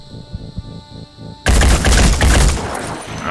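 Rifle shot in the Phoenix Point game, a sudden loud blast after soft thuds and a tone, followed by a long rumbling tail of noise, with no talk.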